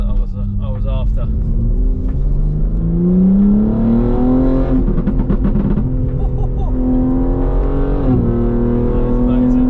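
A BMW M3 G81 fitted with a custom exhaust revs up close and loud, its deep engine note rising in pitch, crackling, then settling into a held drone, with people talking over it.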